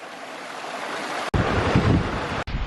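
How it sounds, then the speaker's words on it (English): Strong wind at Bronte Falls near Haworth in Yorkshire, England, buffets the microphone in a loud rushing roar that swells sharply partway through, with two brief dropouts. "Oh, it's very windy."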